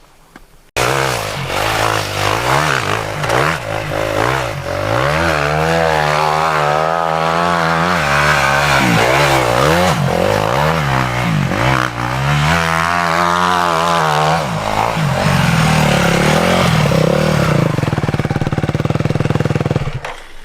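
A motorcycle engine revs and drones loudly and continuously, its pitch rising and falling as the bike rides on sand, with a steady rough growl throughout.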